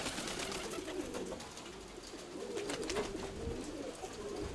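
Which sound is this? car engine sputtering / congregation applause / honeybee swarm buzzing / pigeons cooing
pigeons cooing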